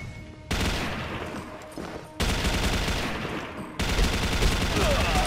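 Rapid automatic bursts from the MK5 turbine machine gun in the shooter game Chiến Dịch Huyền Thoại, three long sustained volleys of dense, close, loud gunfire separated by brief pauses.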